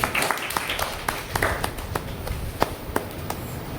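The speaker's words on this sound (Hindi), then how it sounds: "आप लोग उनके लिए ताली बजाएं" An audience claps for a student speaker at a debate competition. The applause is scattered and moderately loud, with irregular sharp hand claps across the whole stretch and faint voices underneath.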